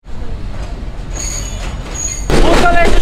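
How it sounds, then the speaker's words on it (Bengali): Passenger train on the Mongla to Benapole line pulling out of the station, loud rumble and clatter of the cars with a high wheel squeal that swells sharply near the end; faint voices mix in. "আর কিছুক্ষণের মধ্যে ট্রেন ছেড়ে দিবে।"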